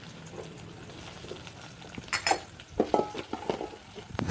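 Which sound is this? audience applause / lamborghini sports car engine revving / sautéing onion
sautéing onion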